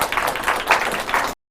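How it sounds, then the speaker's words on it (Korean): Audience applause in a lecture hall for a pharmacist-exam instructor walking in, a short burst of clapping swelling in uneven waves before cutting off abruptly. "김현 교수님 앞으로 입장하실 때 좀 큰 박수 부탁드리겠습니다"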